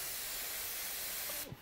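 Iwata Micron airbrush spraying paint dots at high pressure, a steady faint airy hiss that stops abruptly near the end.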